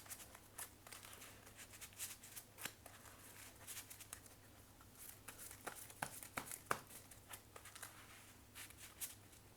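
A deck of embossed, sleeved playing cards is shuffled by hand in short, quiet bursts of riffling and flicking, crisp plastic clicks scattered across a soft, low background.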